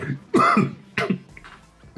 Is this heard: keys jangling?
no